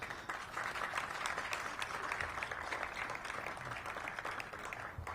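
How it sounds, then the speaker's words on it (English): An outdoor audience at a Ward 8 Day groundbreaking ceremony applauds Mayor Muriel Bowser with a steady, even wash of many hands clapping, fairly faint and distant, with no talk over it. "Give her a round of applause."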